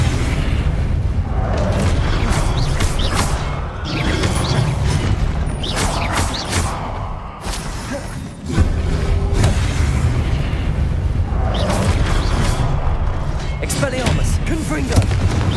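Repeated Confringo blasting spell explosions in the Hogwarts Legacy video game, deep booming blasts rolling almost without pause over a loud, steady combat soundscape, broken by one brief dip before the barrage resumes.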